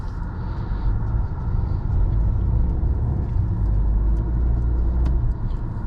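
A 2016 Audi A3 with a 2-liter, 220-horsepower turbo engine hums steadily as it drives along, a continuous low rumble with road noise and no voices.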